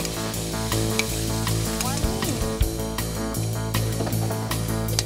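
Squid sizzles and fries in a hot pan on an outdoor cooking setup, a steady loud crackle with occasional stirring scrapes and bursts of spitting oil.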